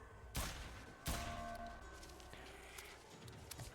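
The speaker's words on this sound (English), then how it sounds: "Keep shooting" Pistol gunshots ring out in Escape Dead Island, two sharp, separated cracks early on, followed by fainter clicks and smaller pops over a quiet, reverberant game backdrop.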